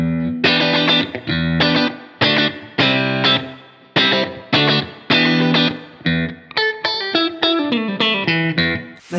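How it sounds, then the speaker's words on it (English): Electric guitar played through a pedal set to a 1960s Fender-style spring reverb with the mix at about three quarters, a run of strummed chords then picked single notes, loud and alone, each ringing into a splashy reverb tail. "I've got this set to like Fender Spring Reverb,"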